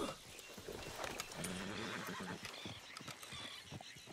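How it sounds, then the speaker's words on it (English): A horse in Red Dead Redemption 2 whinnies loudly over steady hoofbeats and background noise, the neigh rising and shaking for a couple of seconds. "damn horse acting up on me of all the times"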